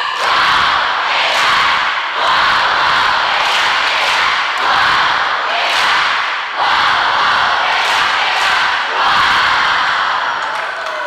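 An audience at a Catholic children's mission jamboree performs a rhythmic clapping chant, bursts of loud crowd claps recurring in regular waves roughly every second or two, dense and close throughout.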